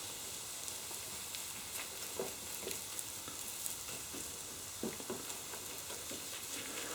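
A Spanish omelette (tortilla de patatas with chorizo) sizzles steadily in a full frying pan while a wooden spoon shapes its edges, giving a soft continuous frying hiss with occasional light scraping taps, close and moderately quiet with no talk.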